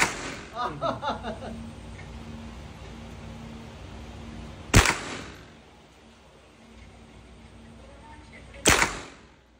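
Two sharp, loud gunshots ring out at a firing range, roughly four seconds apart, each with a brief echoing tail, while muffled voices and range noise carry on quietly between them.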